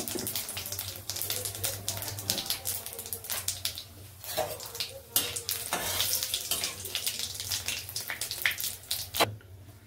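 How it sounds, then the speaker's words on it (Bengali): Whole cumin seeds and bay leaves frying in oil for a chicken curry, giving a steady crackling sizzle with scattered sharp pops over a low background hum, close and fairly quiet throughout. "হাফ স্পুন গোটা জিরে। এটা আমরা ফ্রাই করে নেব 2-3 মিনিটের মতো।"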